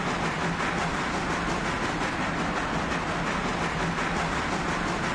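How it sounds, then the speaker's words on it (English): A locomotive working hard and burning through fuel as it hauls a train, giving a steady, loud, continuous rumbling roar with no talk over it. "That's definitely one difficult task for this locomotive."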